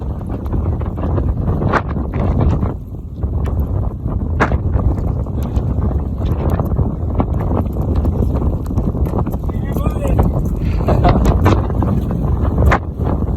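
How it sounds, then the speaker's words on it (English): Strong wind of about 50 miles an hour on a winter mountaintop in the Grayson Highlands roars and buffets the microphone in a loud, continuous low rumble with gusty surges. "Wind is ripping up here."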